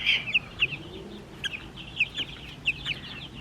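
Three-week-old Buff Orpington chicks peeping in short bright bursts, scattered irregularly over a soft background hiss, fairly close.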